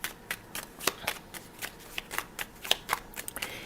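A deck of playing cards being shuffled, giving a run of sharp riffling bursts and snaps at irregular intervals, close and fairly quiet with no talking.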